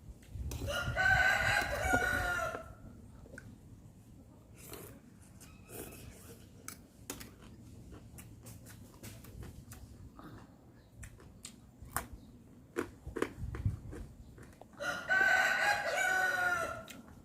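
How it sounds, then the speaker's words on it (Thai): A rooster crows loudly twice, once at the start and once at the end, with quiet clicks and rustling in between. "เสียงไก่ขัน"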